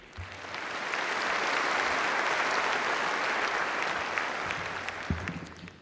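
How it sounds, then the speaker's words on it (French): Audience at a French New Year's greetings ceremony breaks into sustained applause, swelling within a second, holding steady for several seconds and then tapering off in a large room. "Vous pouvez l'applaudir."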